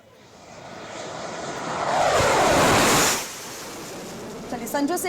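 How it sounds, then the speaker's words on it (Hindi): Fighter jets touching down on the Purvanchal Expressway used as a runway, a loud jet roar swelling over a few seconds and then dropping off, with a brief voice near the end. "एक बार फिर ये टचडाउन करते हुए फाइटर जेट्स नजर आ रहे हैं"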